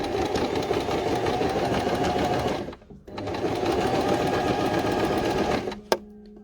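A sewing machine stitches a fabric Christmas stocking in a steady, close, rapid run, pausing briefly in the middle before resuming and stopping with a sharp click.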